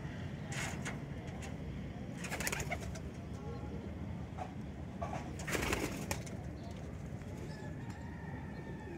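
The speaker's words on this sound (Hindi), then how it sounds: "ये है रामपुरी मादी और ये भी इनके पास माशाल्लाह काफ़ी उड़ी हुई है" Rampuri female pigeon cooing softly in a coop, with short coo bursts over a steady background hum and rustling; faint talk in the background.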